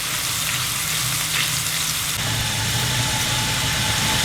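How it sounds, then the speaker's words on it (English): Ginger and garlic fry in a pan with a steady, loud sizzle, a dense crackling hiss that holds for several seconds alongside a low background hum, with no voices. "And now we're going to fry this ginger garlic for at least a couple of minutes."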